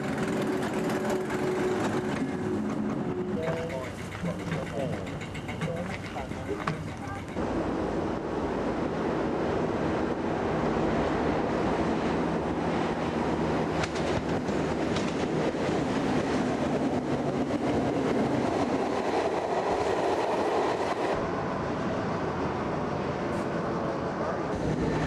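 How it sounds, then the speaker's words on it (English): British Rail's most powerful diesel locomotive class runs past with a dense, continuous rumble and roar that stays loud throughout, rising and thickening partway through. "it is British Rail's most powerful locomotive"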